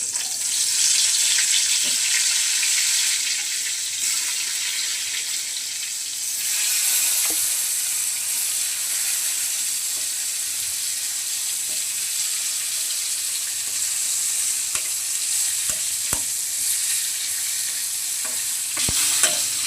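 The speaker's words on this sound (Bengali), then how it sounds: "তেল গরম হয়ে গেছে, এখন বেগুনগুলো দিয়ে দিচ্ছি।" Eggplant slices fry in hot oil with a steady, loud sizzle, broken now and then by faint clicks and scrapes of stirring.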